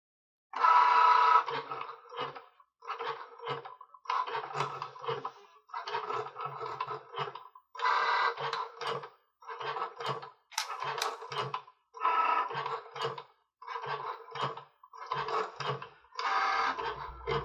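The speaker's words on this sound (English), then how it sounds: "Load the black pen. Gently place the pen in the pen holder. Load the mat into the machine. Press go." A Cricut Joy cutting machine draws with a black pen, its motor whirring in repeated short bursts about a second long, separated by brief pauses, close and clear with no voices.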